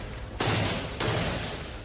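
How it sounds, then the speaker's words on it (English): Gunfire erupts during a hostage rescue raid as Israeli officers approach a family home in a refugee camp, two loud, harsh bursts of shots with sustained noisy rumble between them. "You can hear gunfire as Israeli officers approach a family home in the middle of a refugee camp"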